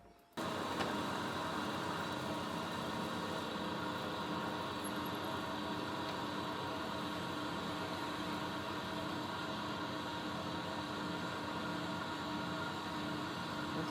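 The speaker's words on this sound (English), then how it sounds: "I might have to give it a slight touch up on the grinder." A bench grinder runs steadily as a drill bit, still on its factory grind, gets a slight touch-up; the broadband whir holds constant and close for the whole stretch after a sudden start, with no voices.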